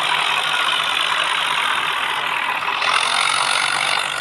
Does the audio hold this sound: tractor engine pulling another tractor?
yes